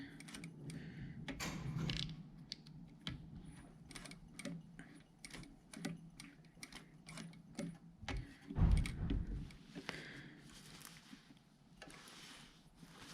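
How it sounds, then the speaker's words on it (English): A sewing machine's handwheel is eased round by hand while stitching a jacket's double piped pocket. It gives soft, quiet, irregular mechanical ticks and clicks with brief pauses, plus a louder knock near the end. "again we can gently use the wheel by hand"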